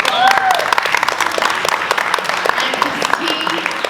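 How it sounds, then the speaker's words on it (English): A crowd at a youth theater performance applauds with brisk, scattered claps, with voices and cheers mixed in, fairly loud and continuous throughout. "Let's give him another round of applause."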